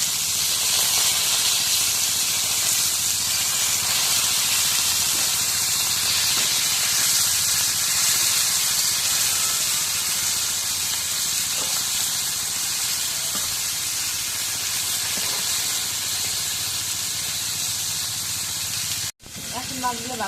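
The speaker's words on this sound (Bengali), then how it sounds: "এখন মাছগুলো ভাজা হয়ে গেছে" Fish fries in hot oil, giving a loud, continuous close hiss and sizzle that holds steady for nearly twenty seconds before a brief sharp break near the end.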